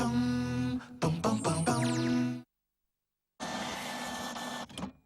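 A Kodak all-in-one inkjet printer works through a print job with mechanical whirs, clicks and a sweeping motor tone, then pauses in silence before a steady feed noise resumes, loud and close with no voices.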